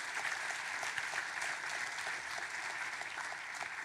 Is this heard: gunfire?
no